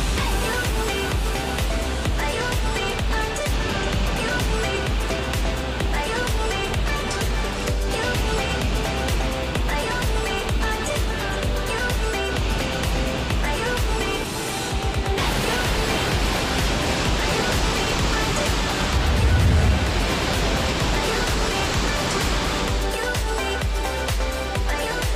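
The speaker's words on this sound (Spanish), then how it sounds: "Ya estamos en la parte de arriba de la catarata" Rushing water at the top of a tall waterfall, about a 15-metre drop, with icy, partly frozen water nearby. A loud, steady broadband roar runs throughout, with a brief dip midway and a low thump near the end.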